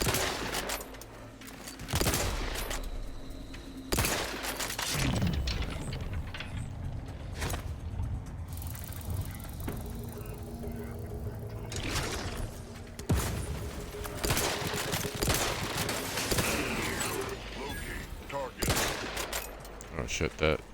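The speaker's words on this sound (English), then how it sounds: "that mech really did shoot me up" A mech's gunfire in the video game Outer Worlds 2 comes as loud, dense bursts, heavy clattering volleys with mechanical whirring between them, sustained across the stretch with brief lulls.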